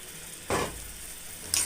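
Fried potatoes tipped into chicken cooking in mustard oil, raising two sharp sizzling bursts over a constant low frying hiss, close and fairly loud.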